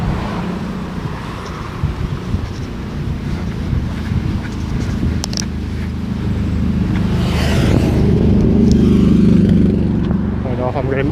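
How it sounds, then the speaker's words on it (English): A bus passes on a city street, its engine rumble swelling nearer and louder toward the end. Wind buffets the microphone and someone talks over the traffic noise. "oh, there's the bus right there."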